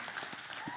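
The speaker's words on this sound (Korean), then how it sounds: "우리 박수로 할까요?" Steady applause from a church congregation at a Christmas service, a dense wash of clapping at moderate level filling the short moment without pause.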